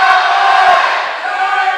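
A volleyball crowd cheers in a loud, sustained roar that is close and full, with voices blended together and no single word standing out.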